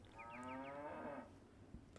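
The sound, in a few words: cows mooing in an Age of Empires video game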